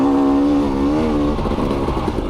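A 2020 KTM 250 XC two-stroke dirt bike engine buzzes up close, holding a sharp, steady note that wavers and then breaks into a choppier, lower rasp as the revs drop.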